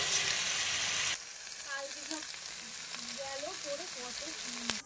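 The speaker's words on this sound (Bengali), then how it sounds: "এবারে মশলার কাঁচা গন্ধ যাওয়া পর্যন্ত আমি ভালো করে কষিয়ে নেব।" Spices sautéing in a pan for a paneer curry, starting with a loud, steady sizzling hiss that drops to a quieter crackle after about a second, with faint tonal sounds running over it.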